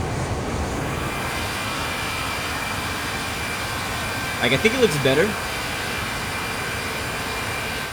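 Airbus A321neo engines from an X-Plane 11 sound pack give a steady, loud broadband jet roar throughout, with a brief tonal warble midway and a voice speaking briefly over it.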